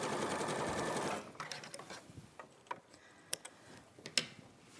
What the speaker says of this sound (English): I'll sew that row and keep it in order